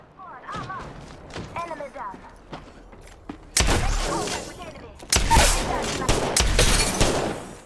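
Gunfire from the video game Apex Legends: sparse shots, then two loud bursts of rapid fire with sharp impacts, while a player talks excitedly in between.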